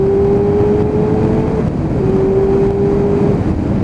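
A Kawasaki ZX7R motorcycle engine runs steadily nearby, a loud continuous drone with a sustained tone that holds, dips briefly and returns.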